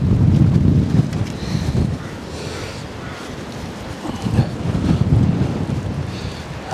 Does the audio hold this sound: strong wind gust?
yes